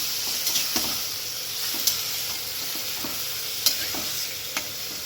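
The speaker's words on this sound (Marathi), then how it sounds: "कारलं टाकून घेऊया. छान परतून घेऊ. व्यवस्थित परतायचं आपल्याला." Bitter gourd sautéing in a pan, with a steady frying sizzle broken by several sharp scrapes and clinks as a spatula stirs it, close and moderately loud with no talk.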